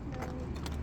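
Horses' hooves clip-clop on a path in the Kidron Valley beside the Mount of Olives and the old city walls, a steady close patter mixed with people talking nearby.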